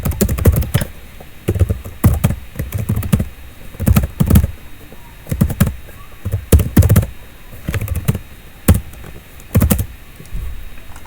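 Fingers type on a computer keyboard in quick bursts of close, crisp key clicks, pausing briefly between groups, with no voices.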